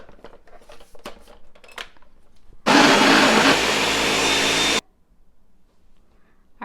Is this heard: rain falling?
no